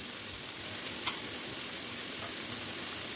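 Sliced peppers frying in a pan with tomatoes for a sausage and mozzarella casserole, giving a steady, close, even sizzle with a soft rain-like crackle throughout and no talking.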